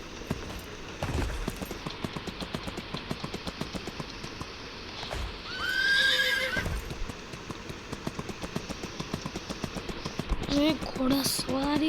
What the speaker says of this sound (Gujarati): ઘોડા સવારી